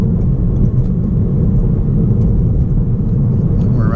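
A 2019 Toyota Corolla Hatchback XSE cruising on the road, with a steady low engine drone and road rumble heard from inside the cabin, loud and continuous with no talk.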